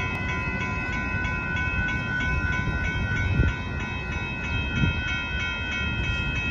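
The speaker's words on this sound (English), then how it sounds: "Here comes the train." A Union Pacific grain train approaches at a road crossing in Austin, Texas, a steady low rumble with faint horn tones held throughout, moderately loud and distant.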